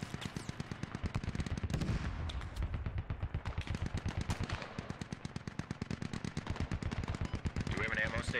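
Rapid automatic gunfire from a military video game battle crackles in dense, continuous bursts with sharp repeated shots, loud and close throughout, with occasional voices faintly underneath.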